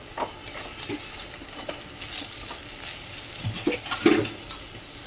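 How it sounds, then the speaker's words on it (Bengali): Dishes and pans being washed nearby under running water, with scattered clinks and scrapes, a louder clatter near the end, over a faint constant hiss. "মল্লিকা এদিকে বাসন ধুচ্ছে,"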